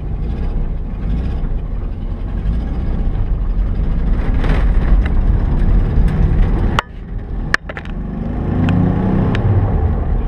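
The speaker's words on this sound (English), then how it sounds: "I'm gonna go run this bus up the highway real quick and just kind of just see how she runs." A 1971 Volkswagen Bus, an original Sundial Mini Mansion camper, drives along a highway with a steady low engine drone and road rumble from inside the cabin, broken by two brief sharp clicks or knocks.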